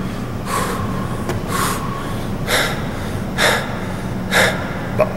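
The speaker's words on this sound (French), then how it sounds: "ça paraît drôle, là, de m'entendre juste respirer" Sharp rhythmic breaths during a CrossFit breathing exercise, about five forceful exhales spaced roughly a second apart, close to the microphone with a faint hum underneath.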